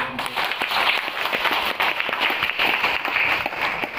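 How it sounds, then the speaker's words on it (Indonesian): Applause from a gathered community at a chapel building preparation event, dense steady clapping from a crowd, moderately loud and continuous throughout. "Kita beri tepuk tangan dulu."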